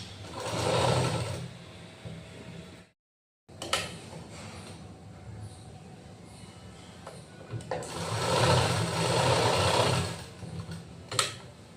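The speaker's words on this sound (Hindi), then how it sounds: "अब हमें इसकी सिलाई करनी है।" A sewing machine stitching a Patiala salwar runs in two loud, close bursts of rapid whirring with a short pause and quieter handling between them.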